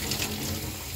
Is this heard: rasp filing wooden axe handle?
no